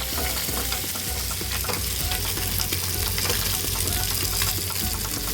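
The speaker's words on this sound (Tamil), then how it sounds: "இப்போ மீன் எல்லாமே நல்லா ஃப்ரை ஆகிடுச்சு" Small sea fish fry in a shallow layer of oil, masala-coated, with a dense, continuous loud sizzle and crackle plus occasional stirring scrapes, no talk over it.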